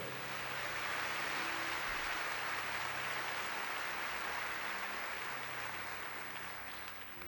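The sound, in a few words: congregation applauding in church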